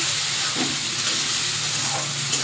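Chopped tomato pieces added to fried onions sizzle in a hot pan, a steady dense hiss of frying oil that stays loud and even throughout.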